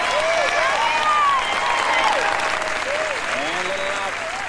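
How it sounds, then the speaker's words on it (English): A ballroom audience gives sustained applause for the professional Latin finalists at a 1995 championship, a dense steady clapping with scattered cheers and whistles throughout. "A nice round of applause for our finalists in the Pro Latin."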